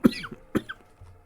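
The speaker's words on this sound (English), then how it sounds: "I apologize if I cough from time to time here" A person coughs twice in short, dry bursts, close to the microphone, followed by a faint throat sound.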